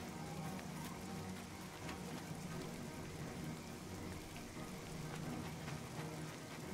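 Steady rain in the video game The Elder Scrolls Oblivion, a continuous, even hiss of falling drops with a soft low ambient hum underneath, no voices.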